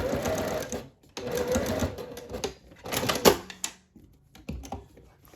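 Sewing machine basting a fabric panel for a top, close and steady needle whirring in several runs with brief pauses between them, ending in short stop-start bursts.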